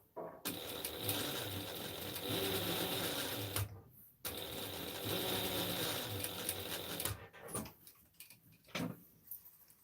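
A sewing machine stitches a seam on a McCall's 7974 garment, running in two long steady bursts of rapid mechanical whirring, a short pause between them, then a few brief stops and starts at the end with no talking.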